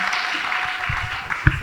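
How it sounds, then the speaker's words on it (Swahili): A congregation claps for Jesus during a church healing service, a dense wash of hands beating together with one sharper close clap near the end. "Pigia Yesu makofi zaidi."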